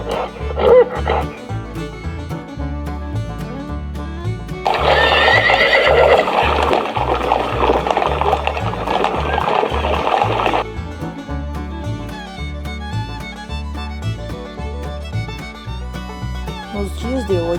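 Horses whinny and neigh loudly and repeatedly while hooves gallop beneath, and a dog barks in the middle stretch; a thick, busy animal soundscape with no talk.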